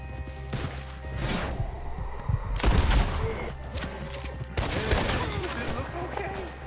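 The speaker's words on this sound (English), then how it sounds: "Couple of shots." A rapid volley of gunshots rings out in Red Dead Redemption 2, with several loud cracks and booming reports coming in clusters. The fire sounds close and heavy, with game ambience and faint voices in the background.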